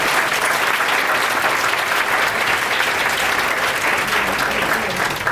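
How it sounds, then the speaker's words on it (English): Guests at a Cancer Survivors Day event at Ruggiero Farms give the staff a sustained round of applause, a loud, dense crowd of hands clapping continuously at an even level, close and unbroken by speech. "Please join me in a round of applause for the staff here at Ruggiero Farms"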